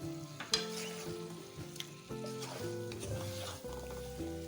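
Fish pieces fry in masala for a fish korma, a soft sizzling hiss with occasional stirring clicks sitting under louder background music with stepped tonal notes.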